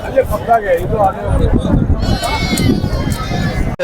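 A ram and goats bleat repeatedly amid the crowd bustle of the Friday livestock market at Bangarupet, with people talking loudly over the animals throughout.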